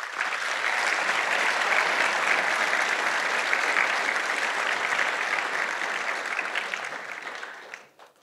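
A conference audience at the Forum PHP 2024 opening keynote applauds in a dense, loud and sustained round of clapping that holds steady for several seconds and then fades out toward the end.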